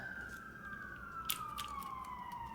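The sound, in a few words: police car sirens outside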